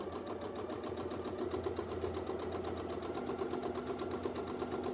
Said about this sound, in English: just in those 5 seconds of sewing